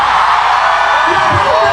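A huge protest crowd at the Trillion Peso March against flood control corruption roars and shouts in anger, a dense continuous wall of yelling voices with a few louder bellows rising near the end.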